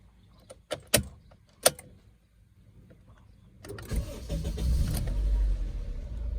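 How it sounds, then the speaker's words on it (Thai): A third-generation Honda CR-V engine cranks and catches around the midpoint, then keeps running as a loud, steady idle after a few sharp clicks and a key being turned. "รถสามารถสตาร์ทเครื่องได้ตามปกตินะครับ"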